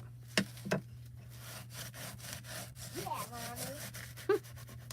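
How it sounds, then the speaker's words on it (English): Glitter paste being scrubbed off a stencil at a desk, heard as close, repeated rubbing strokes broken by a few sharp knocks, with a low steady hum underneath. "So it takes a little bit more scrubbing."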